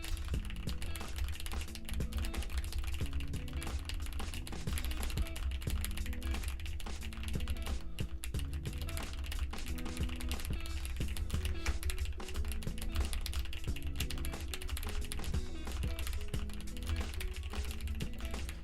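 Continuous rapid typing on a hot-swap computer keyboard, a steady stream of close clicks running throughout, layered over a constant low background hum or music.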